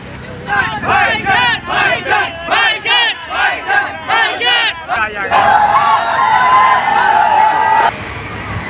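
Large crowd of fans outside Salman Khan's house on his birthday, loud rhythmic chanting in repeated bursts, then a sustained roar of shouting with a whistle-like tone near the end, close and dense.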